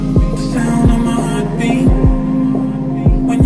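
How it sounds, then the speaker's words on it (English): Steady, repeating heartbeat thumps used as a sound effect within a song, roughly one double beat per second, loud and low, over a sustained humming musical backing with no talking. "Yeah, listen to my heartbeat"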